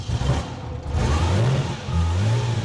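The engine of a 95-year-old Bugatti runs close by, throbbing low and uneven, rising into two rough revs separated by a brief dip as it struggles to warm up.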